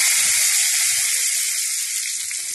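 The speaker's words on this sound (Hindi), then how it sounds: "अब मैं इसी तेल में ये करी लीव्स है जो मैंने धो के रखे हैं, मैं डालूंगा" Washed curry leaves crackle and sizzle in hot oil in a kadai while an arbi sabji is being cooked, a loud steady hiss with a few soft low thumps, close and without speech.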